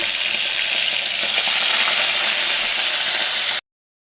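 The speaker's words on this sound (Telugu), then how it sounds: "ఇలా ఆయిల్ బాగా హీట్ ఎక్కాక మటన్ అయితే వేసుకోవాలండి" Mutton frying in hot oil gives a loud, steady sizzle and hiss with faint stirring, close by and without speech, then cuts to sudden silence near the end.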